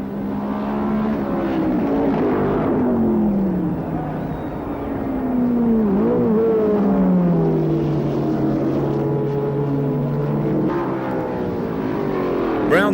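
A 1975 Tasman Series race car pulls out of the pits at Sandown, its engine note rising and falling in sweeping pitch glides, loud and continuous, with a commentator talking over it.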